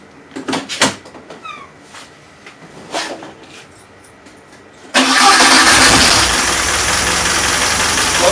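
A 1979 Fiat Spider engine fitted with a Weber 38/38 carburettor cranks and catches after a few faint knocks and clicks. It then settles into a loud, steady running roar close by.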